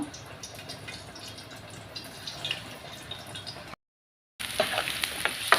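Onions with ginger garlic paste, coriander and mint sizzle steadily in hot oil while being stirred, close and constant, with a brief dropout before the frying resumes louder.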